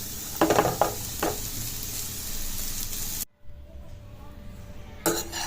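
Cooled rice being stirred and fried in a pan with turmeric for veg fried rice: a steady sizzle with a few spatula scrapes and clanks, a sudden near-silent break, then the frying returns.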